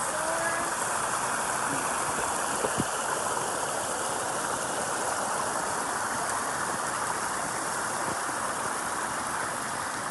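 A mountain stream in the White Mountains, New Hampshire, flows steadily and loudly throughout, a dense continuous splashing roar with no pauses.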